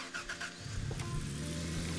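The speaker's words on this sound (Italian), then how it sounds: "Riaccendo il motore." A vehicle engine restarts in the mining game Gold Rush, cranking briefly and then settling into a steady mid-pitched idle that carries on alone at moderate volume.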